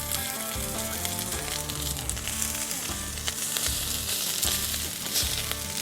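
Wagyu beef finger strips sizzle and fry steadily in a hot pan, a close, continuous crackle with bright spattering throughout and no voices.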